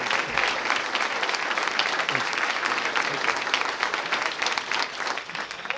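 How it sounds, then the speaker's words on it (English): Steady applause from an audience welcoming a United States senator to the podium, a dense, even wash of clapping that carries on without a break. "You're clapping for him, not me."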